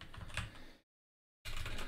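Quick keystrokes on a computer keyboard as a short command is typed, a brisk patter of close, light clicks, then a brief silence before another burst of typing.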